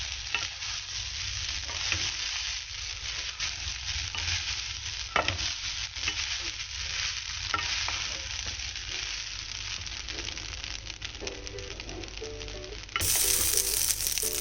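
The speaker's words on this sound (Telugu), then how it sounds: "వేసుకున్న తర్వాత దీన్ని బాగా కలుపుదాం" Brown rice tossed with cumin and cashews in a hot pan, a spoon stirring steadily through a continuous close sizzle with occasional scrapes and knocks against the pan, no voices.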